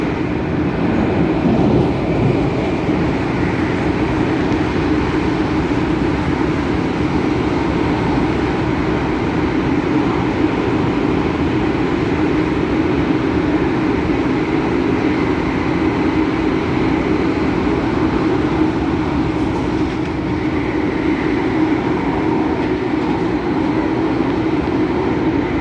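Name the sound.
MTR Tung Chung Line A-Train running between Tsing Yi and Sunny Bay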